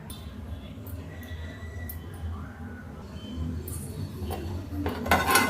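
Cut okra is stirred in a metal pot, giving scattered clinks and scrapes of a utensil, fairly faint, with a louder clatter near the end and a low background hum.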